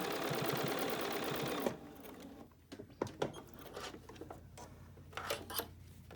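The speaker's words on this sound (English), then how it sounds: "You just want to sew this down enough to hold it." A sewing machine runs in a steady fast whir for a little under two seconds while basting a fabric face mask, then stops; soft rustling, rubbing and handling sounds of the fabric follow, close up.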